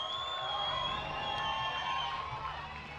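Steady crowd noise from spectators at a youth lead climbing world championship in Innsbruck, a continuous broad murmur with some shouting and whoops, fairly distant and constant throughout with no clear speech.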